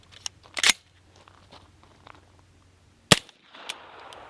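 A CMMG 9 ARC AR rifle chambered in 9mm fires two sharp, loud shots about two and a half seconds apart, with faint clicks and handling noise between them and a brief rustle at the end.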